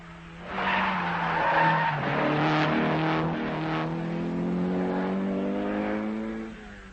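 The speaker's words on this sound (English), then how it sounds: "and at the moment number 1 in the rally, are the Austrians Franz Wittmann and Helmut Deimel in the Opel" An Opel rally car driven by Austrians Franz Wittmann and Helmut Deimel on a stage of the 1978 Danube Rally passes close by with a sustained, loud tire squeal and a strained engine tone that slowly falls away over several seconds.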